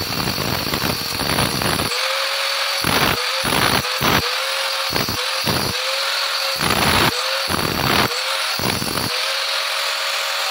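A power drill bores a small wiring hole through an interior wall while a fluted panel and marble sheet are being fitted for a TV area, whining loudly in repeated bursts with short pauses between them.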